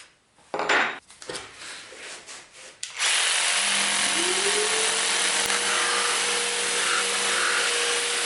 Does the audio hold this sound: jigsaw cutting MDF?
yes